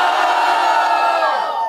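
A loud, dense crowd roars and shouts for an MC at a Brazilian freestyle rap battle, the Duelo de MCs state qualifier in Santa Catarina, holding steady before easing off near the end.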